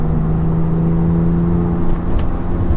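Porsche 911 of the 996 generation driving on tarmac, its engine a steady mid-pitched drone heard from inside the car, even and continuous with no speech.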